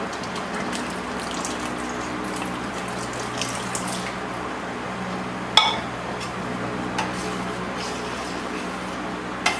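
Thick coconut milk is poured into traditional rice payasam, a steady liquid rush running throughout with a couple of faint clinks of a utensil.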